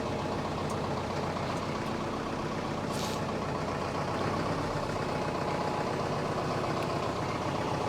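An old post van's engine drones steadily while being driven, a continuous low rumble of even loudness throughout, with no voices.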